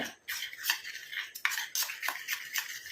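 Natural homemade hair dye mixture being stirred briskly in a small bowl, giving a close, wet scraping and clinking rhythm of repeated strokes with no voices.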